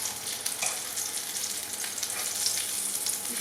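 Flathead fish fillets frying in a hot pan give off a steady, dense sizzle with light crackling spits that carry on unbroken and fairly close throughout, with no one talking.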